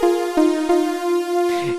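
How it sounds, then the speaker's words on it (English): A bright, buzzy multi-part sawtooth synthesizer tone from a Synclavier V plays in a few short stabs, then holds as one sustained note. "here is a multi-part sawtooth sound"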